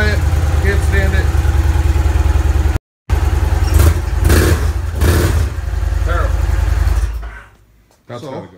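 A 2016 Victory Magnum motorcycle fitted with Miller mufflers revs loudly and close by. The deep exhaust rises and falls through several throttle blips, breaks off for a moment, then drops toward idle.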